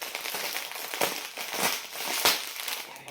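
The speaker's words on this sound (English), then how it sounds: "I'll excuse the rustling" Crinkly plastic packaging from a Diamond Art Club diamond painting kit rustles in close, continuous bursts, with sharper crunches standing out about every second or so.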